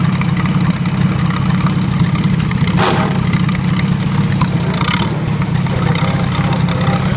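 A Farmall Super A tractor engine runs steadily on a test drive, a loud, continuous low chug that holds constant throughout with no pauses.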